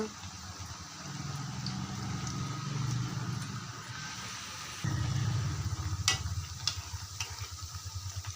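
Potato vadas fry in hot oil, giving a low, steady bubbling sizzle that swells after a few seconds, with occasional scraping of a spoon turning them, close by.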